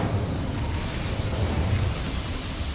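Fiery burst of an Incendio spell cast in Hogwarts Legacy, a dense sustained roar with a rumbling low end that holds steady and loud throughout, with no voices over it.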